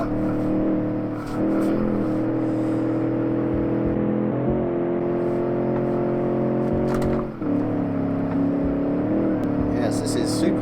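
A 1966 Gasmea car from the Automation car generator drives fast in a video game, its engine holding a loud, steady drone with a few pitch shifts as gears change, and a voice talks over it.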